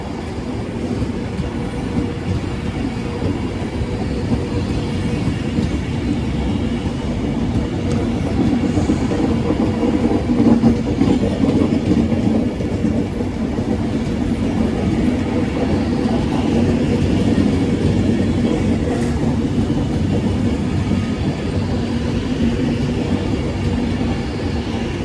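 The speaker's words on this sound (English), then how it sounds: "here comes the Avanti West Coast service going to Glasgow Central from London Euston" An Avanti West Coast train running from London Euston to Glasgow Central passes Kidsgrove station, a continuous loud rumble with rolling wheel noise building slightly in the middle and sustained throughout.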